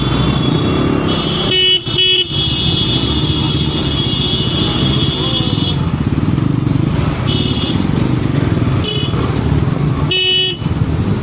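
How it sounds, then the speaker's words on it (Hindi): A motorcycle is revved at full throttle amid traffic, a loud, continuous engine roar close by, with short horn toots breaking through several times. "अबे नितिन ये है क्या भाई, पूरा फुल एक्सीलेटर कहीं जा ही नहीं रहे।"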